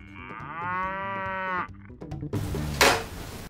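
Dairy cattle on a farm moo loudly and close, one long drawn-out bellow followed by a short broken call, with a brief burst of rustling noise at the end.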